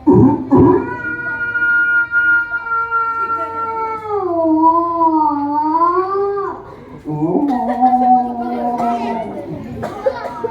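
A storyteller's voice imitates an old wolf's cry in a children's tale. The long wavering howl rises, bends down and slides on for several seconds, followed by shorter yelping calls, with a child-like voice chiming in around it.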